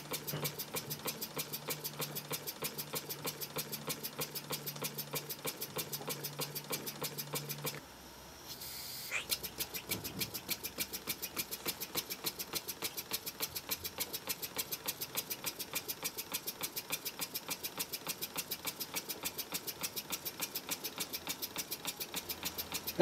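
A Wig-Wag Duplex twin-cylinder model steam engine runs with a fast, even mechanical chuffing and clatter, briefly pausing near the middle before resuming at the same steady rhythm, close and alone.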